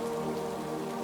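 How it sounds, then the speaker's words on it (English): Gentle rain patters steadily outside on a rainy evening in a forest, a soft continuous hiss of drops with no voices. "the rain's delicate patter outside is the true rhythm of the evening"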